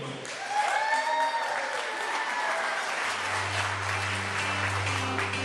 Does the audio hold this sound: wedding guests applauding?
yes